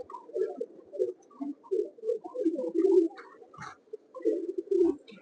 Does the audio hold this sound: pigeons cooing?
yes